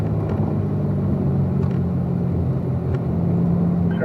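A Corvette accelerating on a racetrack, heard as a loud, steady engine rumble and road roar from inside the car, with no talk over it.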